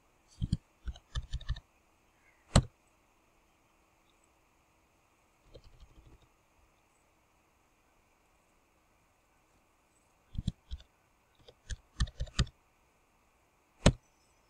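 Someone types on a computer keyboard in sparse bursts of sharp clicks with long quiet gaps between them. The keystrokes sound close and fairly faint.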